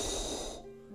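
A slow, heavy breath drawn through the throat in a growl-vocal breathing exercise, a wheezy airy rush that fades out partway through, close and fairly quiet with no talking.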